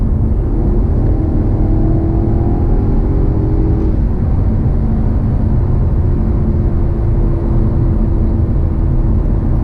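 A Maserati GranTurismo engine hums and pulls steadily on a test drive, a loud, constant droning tone with rising whine, heard from inside the car.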